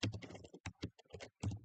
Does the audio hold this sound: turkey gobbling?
no